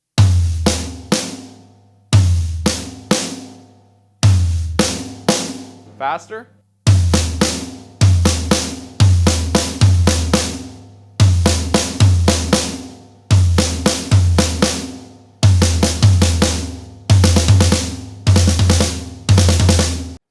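Snare and floor tom drum fill played in groupings of five and three, loud close strokes in repeated rapid bursts with short gaps between phrases; a voice briefly speaks midway.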